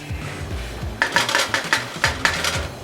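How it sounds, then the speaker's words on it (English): Garlic stirred in a hot pan for spice-rubbed pork, a utensil clinking and scraping against the pan in a quick series of about eight close, bright metallic strokes after a second of low kitchen noise. "So we're going to stir that around."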